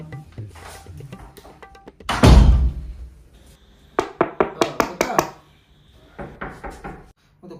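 Sharp knocks on a door in a comedy sketch set in an OYO hotel room, coming as a quick run of about six raps, then a second shorter burst, with a heavy thud just before and voices shouting in between.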